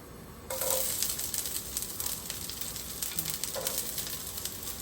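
Onions dropped into hot oil in a pan burst into a loud, steady sizzle that starts abruptly and carries on as a close, crackling hiss, with a light scrape partway through.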